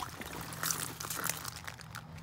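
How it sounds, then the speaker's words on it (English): Prime Ice Pop drink pours from a bottle into a pool in a soft, continuous trickle that is faint and close. "Okay, I will be pouring the ice pop in first."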